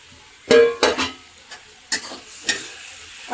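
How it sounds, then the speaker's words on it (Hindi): Chopped carrots, beans and capsicum hit a hot pan for chilli chicken, giving a loud burst of sizzle followed by scattered clinks and stirring scrapes and a steady low hiss. "अब हम डालेंगे सारी सब्जियां जो हमने काटी थी, गाजर, बीन्स, शिमला मिर्च।"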